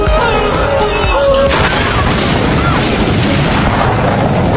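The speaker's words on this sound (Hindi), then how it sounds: "पुलिस अधिकारी को विस्फोट से उड़ा दिया गया" A gas cylinder explodes in the horror film Wrong Turn 5 (2012), blasting a police officer: a loud, sustained crashing boom with heavy rumble fills the whole stretch, layered over film sound.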